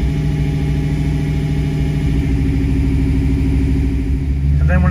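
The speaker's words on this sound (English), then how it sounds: "It's turning off one injector at a time, so you're essentially running on seven cylinders." Fuel-injected V8 engine of a 1986-93 Ford Mustang idling during a cylinder balance test, with one injector shut off at a time. A loud, steady, close rumble runs throughout, shifting slightly near the end.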